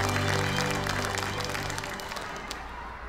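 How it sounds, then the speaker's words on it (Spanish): A crowd applauding the Escuela Agrícola Salesiana of Catemu at a ceremony, dense continuous clapping at full strength that gradually thins and fades over about three seconds. "Démosle, por favor, un gran aplauso a la Escuela Agrícola Salesiana"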